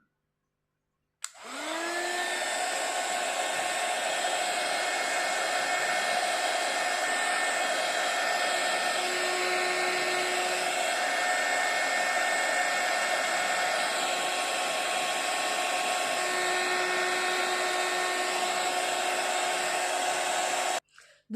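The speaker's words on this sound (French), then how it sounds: "Toujours avec le heat gun." Heat gun drying ink on a handmade card, a steady loud blowing whir that starts abruptly, runs unchanged for about twenty seconds, then cuts off.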